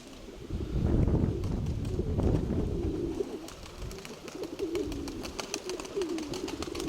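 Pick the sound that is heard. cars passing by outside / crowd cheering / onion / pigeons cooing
pigeons cooing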